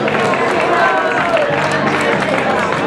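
A crowd at a cycling race in Canals applauds a rider, with steady dense clapping and scattered cheers mixed with background chatter, loud and close throughout.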